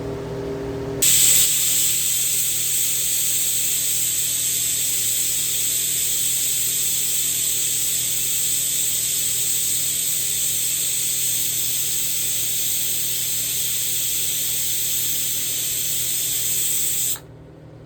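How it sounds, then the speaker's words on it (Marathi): A pressure cooker cooking khichdi lets out a loud, steady hiss of escaping steam that runs unbroken for about sixteen seconds and then cuts off abruptly. "मस्त 3 शिट्या झालेल्या आहेत."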